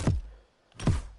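C sharp bass music block in the Fortnite video game, struck twice as two short, deep thudding notes about three-quarters of a second apart, each fading quickly, played alone.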